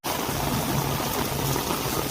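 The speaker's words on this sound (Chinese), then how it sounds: "但是就已经下雨，越下越大了" Heavy rain falls at an RV park, making a dense, continuous wash of water noise that stays even and loud throughout.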